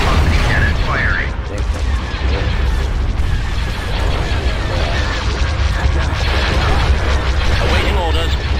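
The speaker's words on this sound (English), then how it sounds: "Macro velocity cannon firing." A macro velocity cannon fires in the video game Star Wars: Empire At War: loud, dense, continuous booming rumble with overlapping blasts of space battle over Geonosis, steady in level.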